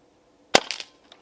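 A single shot from a BARRA 1100Z .22 PCP air rifle fired at a backyard target: a sharp, close crack followed by a short clattering tail and a faint impact.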